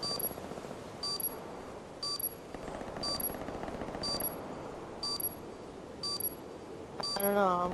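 Gunfire in a Call of Duty-style online video game, distant rapid bursts of shots at a regular rhythm, with faint clicks and electronic beeps over quiet background noise and a brief louder burst at the end.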